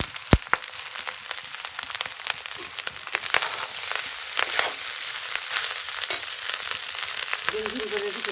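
Parboiled rice, cooked with bay leaf, cloves, cardamom and cinnamon, goes into a hot pan for dhaba-style fried rice, a close, crackling sizzle with sharp scrapes and clinks of stirring, building into a steady hiss as a voice briefly speaks at the end.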